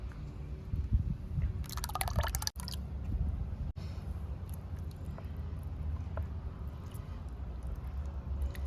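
Liquid poured into pearl millet porridge and stirred, with soft wet sloshing and squishing, a brief brighter splashy stretch early on, then a steady low mixing texture with occasional drips.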